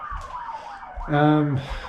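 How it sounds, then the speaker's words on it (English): An emergency siren wails from outside, a distant falling tone followed by a louder, brief rising-and-falling whoop, while someone talks indoors. "That siren is not the plumber"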